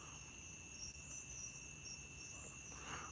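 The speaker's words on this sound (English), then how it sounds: "I like the crickets too." Crickets chirp outdoors at night in a continuous high, steady trill, moderately distant, with no voices over the sound.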